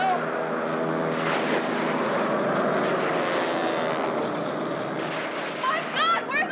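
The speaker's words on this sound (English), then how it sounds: "when they're in the plane, if you listen, they're reusing the same sound effect over and over" A propeller airplane engine drones loudly and steadily as a reused sound effect in the Flash Gordon movie, with voices and other effects briefly layered over the roar near the end.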